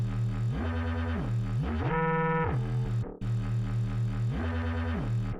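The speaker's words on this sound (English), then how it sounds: "Next up, we will add a phase distortion." Synthesized machine-gun style reese bass run through a phase distortion effect, a gritty buzzing tone whose pitch slides up and down in repeating sweeps, loud and continuous with one brief dropout, no voices.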